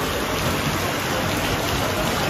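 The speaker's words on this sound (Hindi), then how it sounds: "गाइस, तो बहुत तेज बारिश आ रही है" Heavy rain pours down steadily, a dense continuous hiss of drops drumming on surfaces close by, loud and unbroken, with no voices over it.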